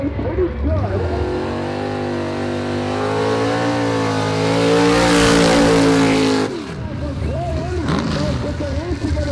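A race car with a 6-inch motor revs hard nearby, its engine rising steadily to a loud peak before cutting off abruptly, then settling into rough, fluttering lower revs, with a voice faintly audible beneath.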